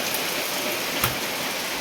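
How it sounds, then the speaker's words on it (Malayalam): Heavy rain pours down outside, a dense, steady hiss of drops on surfaces that fills the whole moment without a break. "പുറത്ത് നല്ല മഴ പെയ്യാണ്"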